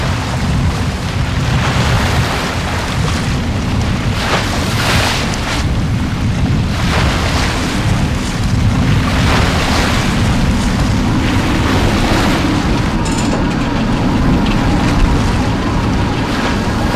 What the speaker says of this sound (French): La tempête tant attendue est bien là.